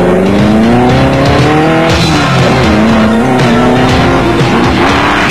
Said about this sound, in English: the super-paved race car sounding as good as new